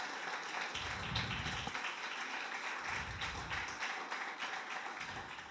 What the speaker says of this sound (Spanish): Demos un fuerte aplauso al Señor.